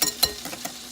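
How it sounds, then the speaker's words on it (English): Whisk scraping through pancake batter thinned with milk, quick rhythmic strokes with light clicks against the bowl, close and alone. "I'm going to add a little milk and whisk it to kind of thin it out"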